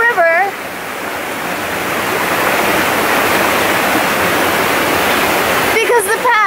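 A jungle river in Costa Rica rushes loudly and steadily close by in a dense, even roar, with brief voices at the very start and end.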